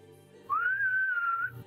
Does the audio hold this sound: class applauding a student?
no